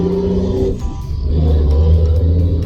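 A loud, close truck rumbles past, its low engine drone swelling and fading over a few seconds with a steady mechanical hum.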